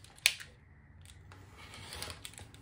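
A single crisp snip of scissors trimming an uneven fabric edge on a beginner zipper pouch, close and quiet, followed by faint handling rustle.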